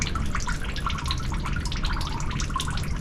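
Fluid from an old tractor splashes and trickles continuously into a drain pan, a steady close liquid pouring sound with no pauses.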